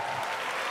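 Audience at a live stand-up comedy concert in Cincinnati bursts into steady, dense applause, a loud wash of clapping that fills the whole moment with no talk over it.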